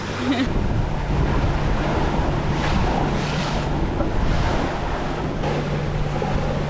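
Steady wind roars across the microphone and waves wash past the hull of a sailboat under sail in about 20 knots of wind, a dense continuous rush with no pauses.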